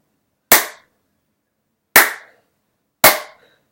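Three hard, sharp hand claps ring out alone at uneven intervals, each loud and close with a quick decay into silence.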